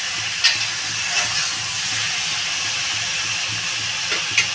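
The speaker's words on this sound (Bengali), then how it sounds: "বেগুনটা ভালো করে কষাবো।" Eggplant sautéing in a pan for a Bengali potato, eggplant and country-chicken egg curry, a steady broadband sizzle with a few soft scrapes of stirring, close and continuous without any talk.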